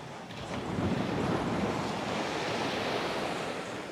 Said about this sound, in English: the waves crashing in the background